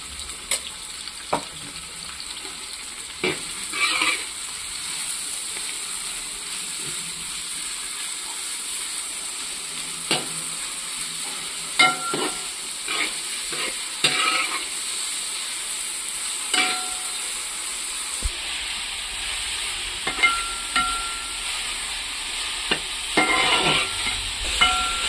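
Onions with ginger sauté in a pan with a little salt for a chicken curry, giving a steady hissing sizzle broken by scattered stirring scrapes and clinks.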